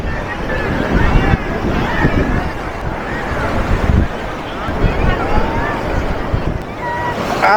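Sea waves roll and wash continuously at Puri beach while people bathe, the surf mixed with strong wind buffeting the microphone and a background of voices talking.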